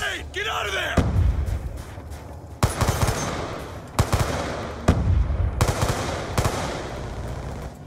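Bursts of gunfire from Black Ops 2 multiplayer, short semi-automatic volleys repeating about every second or so, loud and close, with scattered game sounds between bursts.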